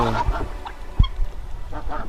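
Wild geese honk in a few scattered calls from a hunting hut set among goose decoys at Téteghem, with one sharp close knock and quieter distant calls between.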